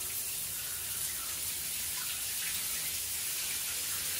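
Shower water running steadily in a hotel room bathroom at the Bellagio in Las Vegas, a continuous close hiss of spray with no pauses or talk.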